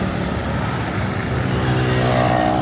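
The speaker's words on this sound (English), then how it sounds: "And there's a hop on hop off bus" A hop-on hop-off tour bus passes along a street in Kuala Lumpur, its steady, loud engine rumble close by and filling the whole moment with continuous traffic noise.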